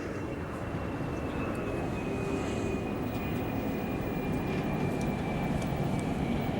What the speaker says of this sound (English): The wait for that plane to go over